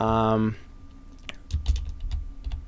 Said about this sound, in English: then we click in there and we just type in